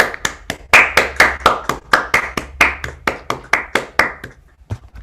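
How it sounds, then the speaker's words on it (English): Applause for a speaker at the close of a talk in a mathematics workshop plenary session: a few hands clapping in a quick, steady rhythm, distinct individual claps, fading and thinning out near the end. "Let's all give a round of applause to Stephane for a wonderful talk."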